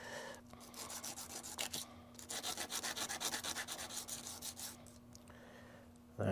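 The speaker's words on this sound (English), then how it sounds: "Speaking of sandpaper," Sandpaper rubbed by hand in short, rhythmic back-and-forth strokes, close and fairly quiet, with a couple of brief pauses and a steady faint hum underneath.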